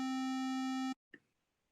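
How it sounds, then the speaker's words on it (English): A loud, steady synthetic square wave tone buzzes for almost a second, full of bright odd harmonics, then cuts off abruptly, followed by a brief faint click. "That's a square wave."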